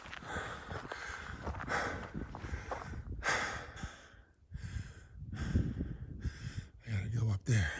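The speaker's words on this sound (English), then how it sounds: "You can tell by my breathing." Heavy, labored breathing of a hiker climbing a steep stretch of the Latigo Backbone Trail, close to the microphone in repeated loud huffs, snorts and sighs at an uneven rhythm.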